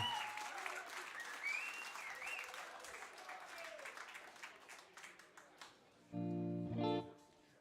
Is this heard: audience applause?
yes